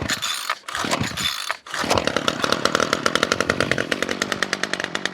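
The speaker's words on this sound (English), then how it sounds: "Let's see if this one will run." A two-stroke chainsaw that has sat unused all year coughs and catches after a couple of short bursts, then settles into a loud, steady running buzz close by, with no talking.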